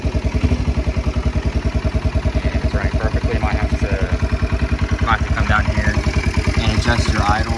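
A Kawasaki Brute Force 300 ATV engine runs after its carburetor cleaning, putting out a steady rapid thumping idle that stays close and even throughout, with faint clatter on top.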